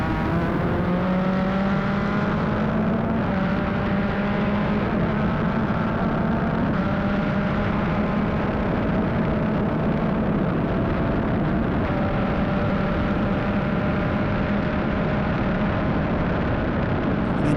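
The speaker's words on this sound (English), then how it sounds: "that's allowed Callum Hedge to get right on his rear wing as they exit turn 1, heading into the chicane" Formula Regional Americas race cars at New Jersey Motorsports Park howl out of turn 1 and into the chicane, with several engine notes rising and overlapping in a loud, sustained blare and no voices.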